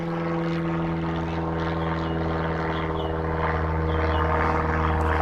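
Propeller airplanes passing overhead outdoors, a loud steady droning engine roar with strong low tonal hum that holds and swells slightly across the whole stretch, no talking.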